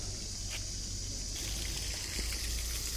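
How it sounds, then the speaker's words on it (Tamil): Water pours without a break from the mouth of a stone Nandi statue at a Shiva temple, a steady splashing trickle that stays even and close, with no voices. "நந்தி சிலையிலேருந்து வாயில் தண்ணி கொட்டிக்கிட்டே இருக்குது."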